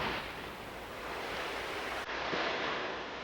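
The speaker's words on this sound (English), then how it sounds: "a warm tropical breeze blew across the ocean" Steady wash of ocean waves carried on a warm tropical breeze, a broad continuous hiss with gentle swells, no voices.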